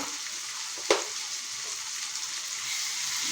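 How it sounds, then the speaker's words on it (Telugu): Ginger paste fries in a hot pan with a steady, close hiss of sizzling oil, broken by a single sharp clink early on. "ఇందులో ఒకంత నూరినటువంటి అల్లం పేస్ట్ ఉందండి అది కొంచెం వేస్తున్నాను లైట్గా"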